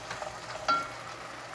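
Macaroni with catsup and black pepper being stirred in a frying pan, a soft continuous sizzle with light scraping and one brief brighter clink near the middle, fairly quiet and close.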